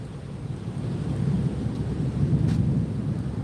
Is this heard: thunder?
yes